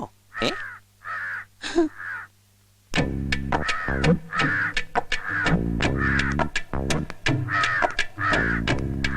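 A crow caws in three harsh, separate calls against a quiet background, before a loud musical score comes in beneath the final calls in a Malayalam comedy scene.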